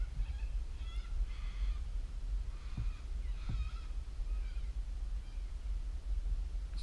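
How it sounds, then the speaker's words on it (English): Major Mitchell's cockatoos calling outdoors: a few harsh, nasal squawks in quick succession, moderately distant and faint over a steady low rumble of wind or traffic. "They're actually Major Mitchell cockatoos."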